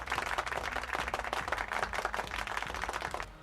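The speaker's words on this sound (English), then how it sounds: "We can give him a round of applause." A round of applause from a basketball arena crowd, dense continuous clapping with a steady roar lasting throughout, fairly loud and close, with no clear talk on top.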